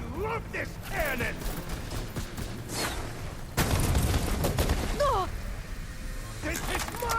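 A cannon fired during a battle in Horizon Forbidden West, producing booming blasts, the strongest near the middle. Shouted voices and game effects run over the fire throughout.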